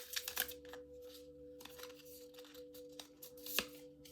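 Tarot cards shuffled and drawn during a reading: quiet papery flicks and slides in short bursts, soft and close, with brief pauses between, no voice.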